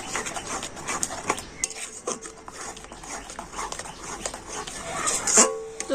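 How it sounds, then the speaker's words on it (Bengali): A sweet mango mixture is stirred without pause in a pan, the spoon scraping and knocking against the metal in a steady, close, irregular rhythm. "এইভাবে কিন্তু কন্টিনিউ নাড়তে হবে নেড়ে একটা শক্ত ডো তৈরি করে নেবো"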